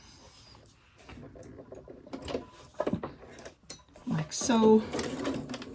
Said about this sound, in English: I'm going to start down on the lining right here, and I'm going to sew with a 1/4 inch seam